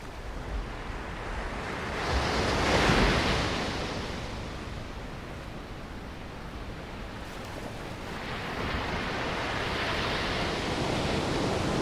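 Ocean waves wash onto the windswept shore of the Magdalen Islands archipelago, a steady broadband roar that swells around three seconds and again near the end, with wind buffeting the microphone and no voices.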